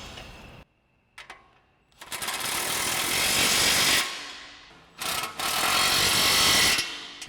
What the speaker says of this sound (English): So now we can go ahead and tighten down our bottom two mounting bolts.